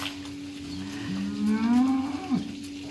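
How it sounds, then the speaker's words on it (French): A cow lets out a long, loud, rising moo while cattle are herded uphill along the Camino Francés in Spain, close and alone with no talk. "on monte les vaches"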